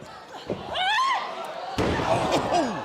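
A woman wrestler is slammed onto the ring canvas during a televised WWE NXT match, a single heavy thud landing midway amid crowd noise and a commentator's voice.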